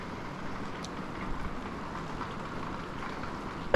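Steady rain and gusting wind beat on the outside of an RV in a storm, a dense continuous wash of noise heard from inside, with no voices.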